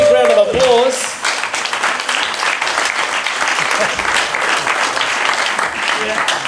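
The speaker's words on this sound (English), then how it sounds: "Give him a big round of applause." A crowd at the Ironman triathlon in Kona applauds and cheers steadily at a race finish, dense clapping continuing throughout, with a voice speaking briefly at the start.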